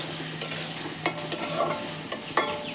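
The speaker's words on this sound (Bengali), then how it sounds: "খোসাটাকে কিছুক্ষণ নেড়ে চেড়ে তারপর এটাকে আমি ভালোভাবে ফোড়নটা মিশিয়ে" Watermelon rind stirred in a pan with tempering spices, steady frying sizzle with a spatula scraping and knocking against the pan several times, close and alone.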